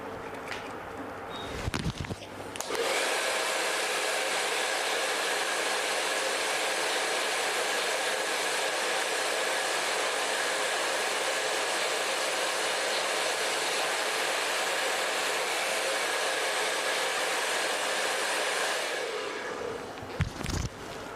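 A blow dryer blowing hot air to set curls, switched on after a couple of seconds and holding a steady, loud rushing roar until it shuts off near the end.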